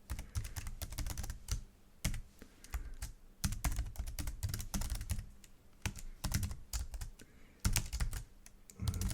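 Typing on a computer keyboard, a steady run of quick, light key clicks with irregular bursts and short pauses, close and fairly quiet, with no speech over it.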